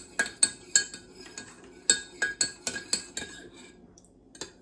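A spoon stirs a hot toddy in a cup, ringing against the sides in a quick series of bright, close clinks that thin out toward the end, with no talk.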